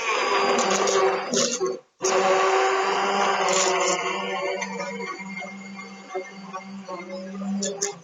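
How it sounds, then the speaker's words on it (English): An immersion blender purées carrot soup, whirring steadily with a dense, grinding motor roar, cutting out briefly before starting again, then humming on with slight changes in pitch. "Yeah, the immersion blender."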